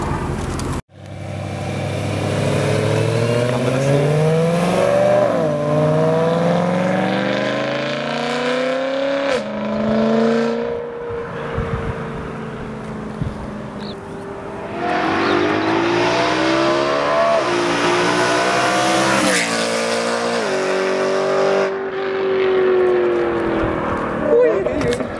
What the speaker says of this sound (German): das Auto hat echt einen super geilen Sound